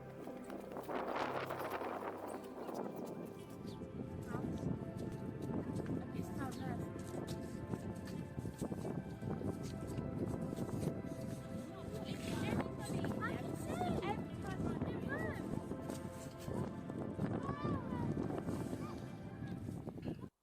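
Steady wind rushes and buffets the microphone throughout at a seaside village, with people talking over the gusty noise outdoors.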